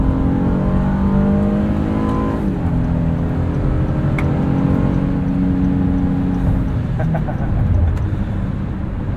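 A 2022 Honda Passport Trailsport AWD with a 280-horsepower engine pulls steadily under acceleration, its engine tone rising and shifting through a gear change, heard from inside the cabin with continuous road noise.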